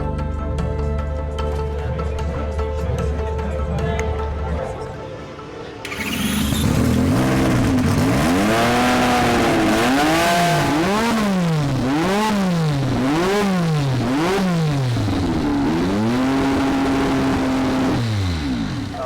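A low idling engine gives way to the loud, close revving of a Honda-powered Williams FW11 Formula One car, pitch rising and falling in rapid sweeping cycles.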